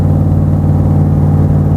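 Superformance Cobra roadster with a 450 hp engine accelerating, a loud, close, steady low rumble with strong throbbing engine harmonics that holds without a break.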